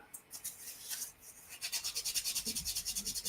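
Mold lines on plastic seat parts for a Tamiya Lexus LFA model kit are sanded by hand in quick, rhythmic back-and-forth strokes, close and fairly quiet, speeding into a regular scratching pulse.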